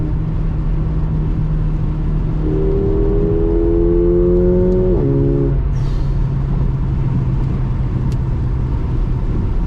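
A Mercedes CLA 45 AMG four-cylinder engine drones steadily, then climbs in pitch as it accelerates after a downshift, drops briefly at a gear change, and settles into a lower hum under road noise.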